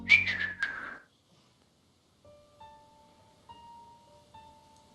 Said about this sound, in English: You can hear whistling in the distance.